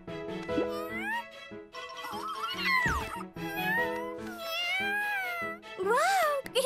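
An animated kitten in a cartoon meows repeatedly, with rising and falling high-pitched mews close up, set over music and cheerful background sounds.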